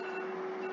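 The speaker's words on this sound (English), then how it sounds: "Oh, that's me. I set an alarm." A set alarm sounds as a steady electronic tone, held constant and fairly faint across the whole short stretch, with no talking over it.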